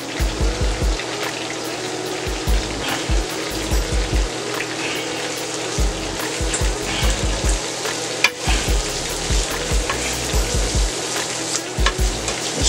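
Vegetables sizzle and fry in a pan for a Thai-style whole red snapper, a steady loud crackle with stirring scrapes and occasional low thumps throughout.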